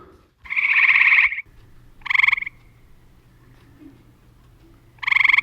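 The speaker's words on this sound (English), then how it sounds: "that basically is the Cope's gray tree frog with a slower call" A Cope's gray tree frog gives a slower call, made of three loud buzzy trills: a long one first, then two shorter bursts separated by quiet pauses, close and clear over a faint low background hum.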